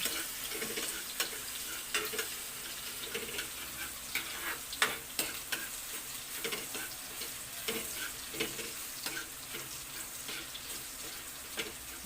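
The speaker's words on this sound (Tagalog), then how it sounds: "Lalagay na natin yung bawang hanggang maging golden brown." Garlic fries in hot oil until golden brown, crackling and sizzling steadily up close, broken by repeated clinks and scrapes of stirring, with no talk.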